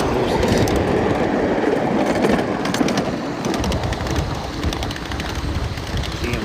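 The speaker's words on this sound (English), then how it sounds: "24 cars, including 2 cabooses." Long freight train of 24 cars, including two cabooses, rolling past a crossing, a steady loud rumble with rhythmic clickety-clack of wheels over rail joints and some wind buffeting on the microphone throughout.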